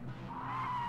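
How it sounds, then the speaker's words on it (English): Car tyres squealing in the racing video game Project Cars 2, a sustained, loud skidding whine that rises over a low engine drone, heard alone without talking. "Oh, listen to those tyres squeal."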